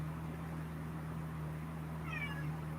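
A cat gives a short, faint meow midway through, over a steady low electrical hum indoors, with no talking.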